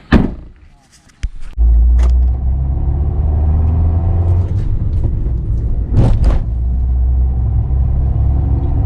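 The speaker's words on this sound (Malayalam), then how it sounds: "അപ്പോൾ നമുക്ക് വണ്ടി ഒന്ന് ഓടിച്ചിട്ട് എങ്ങനെയുണ്ടെന്ന് നോക്കാം" A Maruti Suzuki Swift with wider tyres fitted opens with a door thud, then its engine starts and settles into a loud, steady low rumble that continues to the end.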